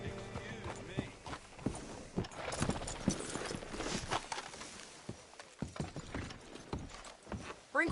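Horse hooves clip-clop in a steady rhythm, close by, with mechanical clicks and brief speech in between, in the video game Red Dead Redemption 2.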